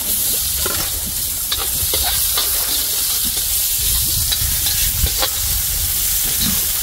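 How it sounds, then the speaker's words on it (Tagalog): Garlic and then onion sautéing in hot oil in a home kitchen, a steady close sizzle with occasional stirring scrapes and clinks. "Nagmamantikang bawang. At sunod na rin ang sibuyas."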